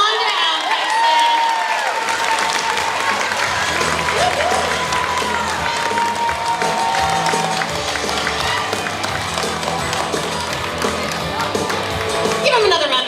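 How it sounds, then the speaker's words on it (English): Audience at a fifth grade farewell assembly in a school gym applauding loudly and steadily, dense clapping and some cheering filling the room while voices talk over it. "Give him another round of applause."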